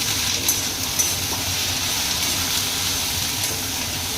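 Okra frying in plenty of oil with asafoetida and turmeric in a pan, a steady close sizzle that holds evenly throughout with a few faint clicks on top.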